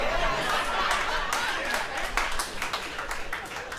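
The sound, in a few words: audience reacting with applause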